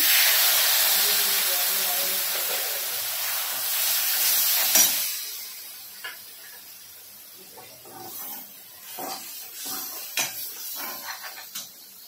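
Water poured into a hot pan of egg masala bursts into a loud hissing sizzle and steam that fades after a few seconds into quieter bubbling and occasional utensil clatter.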